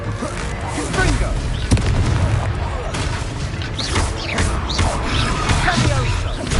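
A Confringo fire spell explodes in a Hogwarts video game, with dense, continuous booming blasts and crackling bursts filling the scene while a voice shouts spells over the action.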